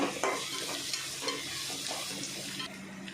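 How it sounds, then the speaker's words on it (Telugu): A spoon stirs turmeric through oil sizzling in a pan while country chicken is being prepared, giving close scraping strokes over a constant bright frying hiss, with no talk. "ఇప్పుడు ఒక స్పూను పసుపు వేసుకుందామండి దాన్ని కూడా మంచిగా కలుపుకుందాము"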